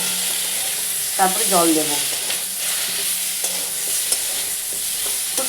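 Potato, pointed gourd and eggplant with turmeric, chilli, coriander and cumin powders and salt sizzle steadily in a pan for a fish curry, with occasional scraping stirs and someone speaking briefly over the hiss.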